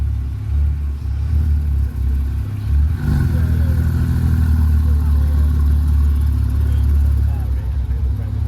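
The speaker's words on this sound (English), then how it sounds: "Looks like it has the full custom Profusion exhaust system on it." A car fitted with a full custom Profusion exhaust system gives off a loud, deep low rumble that swells into a rev near the middle, with people talking over it close by.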